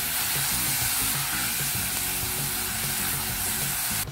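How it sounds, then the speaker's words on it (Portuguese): A pasta filling with bell pepper sautés in a hot pan, giving a steady, loud, close sizzle that holds unbroken throughout. "E vamos deixar refogando."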